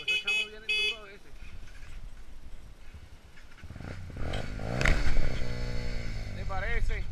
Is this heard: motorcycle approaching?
yes